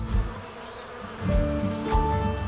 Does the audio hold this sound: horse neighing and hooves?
no